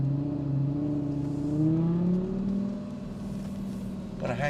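A 2007 Lamborghini Gallardo pulls away under throttle, its engine note climbing and wavering in pitch, then easing off before a short burst of higher-pitched noise near the end.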